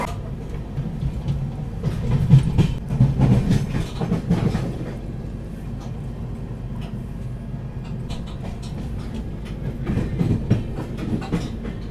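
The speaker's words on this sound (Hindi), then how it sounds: "इस वक्त हम पहुंच रहे हैं संगम सिटी प्रयागराज के प्रयागराज जंक्शन रेलवे स्टेशन के प्लेटफॉर्म नंबर 5 पे।" Tejas Rajdhani Express pulling into Prayagraj Junction at night, heard from inside the coach: a steady low rumble with rhythmic clickety-clack of wheels over rail joints, swelling and easing.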